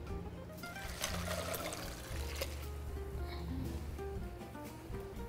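Brine poured into a bowl of ice, a continuous splashing, trickling stream of liquid close by over a low background hum, with no talk.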